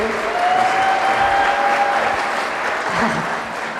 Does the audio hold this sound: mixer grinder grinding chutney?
no